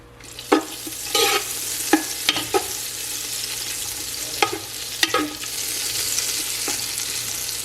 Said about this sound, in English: we're gonna get started by first putting in a little bit of oil and about a half a stick of butter